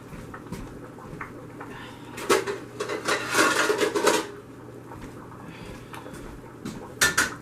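A heavy skillet clanks and scrapes on a stovetop in a few bursts, with quieter clatter between.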